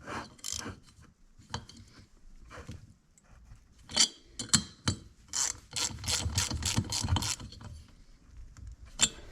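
Socket ratchet wrench clicking while tightening bolts on a small Briggs engine cylinder head during a Cub Cadet RZT17 mower rebuild; several bursts of close, sharp ratcheting clicks with brief pauses between strokes, no talking.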